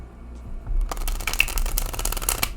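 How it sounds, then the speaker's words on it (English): A tarot card deck is riffled and shuffled close by, a rapid papery flutter of snaps after a moment of quiet handling. "I'm going to go ahead and shuffle. I haven't shuffled this deck yet."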